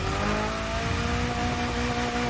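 A car drifts in the video game The Crew Motorfest, its engine holding a steady high whine with a layered droning tone and a faint tire rush, loud and continuous over a short stretch.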